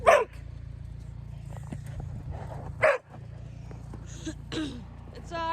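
A dog gives several sharp barks and yips spread across the moment, near and fairly loud, over a steady low outdoor hum, with a person talking between the barks.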